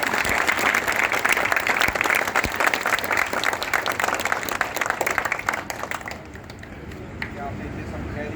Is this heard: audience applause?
yes